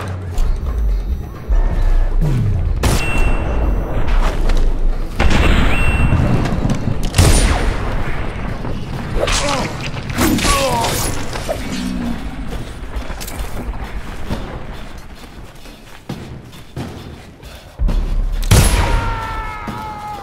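Gunfire and heavy explosions in the video game Dishonored, repeated booming blasts and shot bursts scattered across the clip with mechanical clanks between, loud and close.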